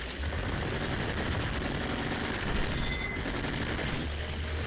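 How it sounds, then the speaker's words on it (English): Gunfire from a gun in the VR shooter Rogue Ascent, a fast, sustained automatic rattle of shots at a steady level throughout, no talk. "I was having so much fun shooting."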